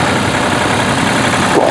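A vintage tractor runs at a steam rally, its engine giving a loud, steady, close rumble that lasts throughout without pause.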